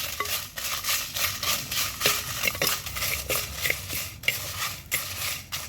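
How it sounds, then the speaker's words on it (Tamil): Coriander dry-roasting in a pan without oil, with rapid, irregular scraping and clinking of a spoon stirring against the metal, up close over a faint crackle. "கொத்துமல்லி ரெண்டையும் போட்டு நல்லா வதக்கணும் நல்லா வறுபடுறேன்"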